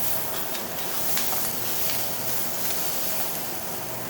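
Chicken sautéing in a pan for chicken cacciatore gives a steady, dense sizzle and hiss that holds evenly for a few seconds, close up and without talk.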